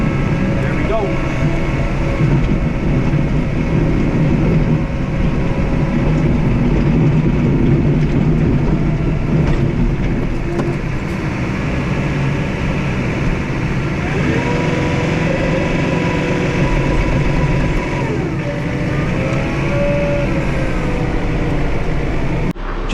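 A John Deere 4052R tractor runs in cold snow with an inverted snowblower, its engine drone steady throughout, while someone talks over it and hydraulic whines rise and fall midway.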